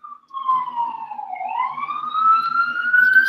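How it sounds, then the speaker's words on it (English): An emergency vehicle siren wails loudly and steadily nearby, its pitch dipping and then sweeping back up. It plays alone, with a faint low rumble underneath. "Sorry about the sirens."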